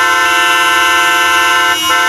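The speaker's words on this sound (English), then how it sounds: "listening to these kind of honking sounds" Loud, sustained car horns blare together in a dense, continuous chorus of honking from hundreds of cars stuck in a traffic jam, with a brief dip near the end.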